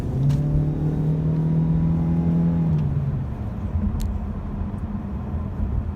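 A 2018 Ford C-Max hybrid is driven hard, heard from inside the cabin. A steady engine drone sits over road rumble, and its pitch drops and softens partway through as the throttle eases.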